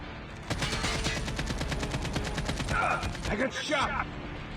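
Two enemies fire at once in Call of Duty Mobile, producing a loud, close, rapid automatic-gunfire burst of many evenly spaced shots, followed by a few mechanical clatters as it stops.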